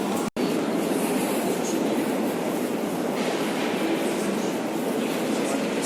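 A Moscow metro train runs with a loud, steady roar and rumble, heard from inside the carriage, briefly interrupted near the start, with no clear speech over it.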